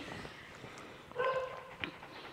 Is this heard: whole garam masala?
no